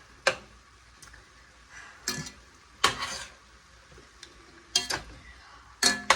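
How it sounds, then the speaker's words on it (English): Garlic being stirred in a pot while cooking chili: sharp scraping clicks of a spoon against the pot come in irregular separate strokes, close and crisp over a quiet background. "So we're gonna stir this in for about a minute before we add our tomato paste"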